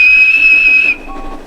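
A single loud, sustained high whistle blast, close by, cutting off abruptly and followed by a fainter lingering tone.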